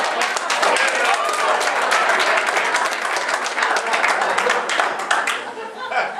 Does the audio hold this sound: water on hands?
no